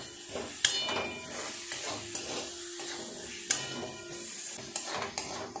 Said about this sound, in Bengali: খুব অল্প একটু জল দিয়ে ভালো করে নেড়ে চেড়ে মশলাটাকে কষিয়ে নেবে